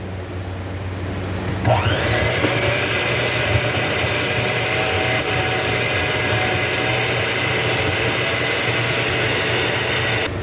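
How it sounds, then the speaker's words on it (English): A stand mixer with a paddle attachment beats a butter mixture for a crunchy dessert component. A loud, steady motor drone runs throughout, with a brief clunk early on. "So you're going to use your paddle attachments on your blender or your standard mixer or your hand blender, and you're going to beat it until it's just smooth."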